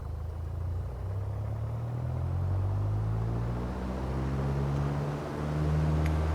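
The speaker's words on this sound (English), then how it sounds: "we're going to throttle up to full" A light aircraft engine in a flight simulator game throttling up to full power, a steady droning hum whose pitch rises gradually and then holds high, continuous and close, with no talking.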